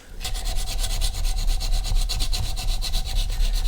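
A Leatherman file rasps a burr off a TVR Speed Six cylinder head part in quick, rhythmic back-and-forth strokes, close and fairly loud, about a dozen strokes in a steady run.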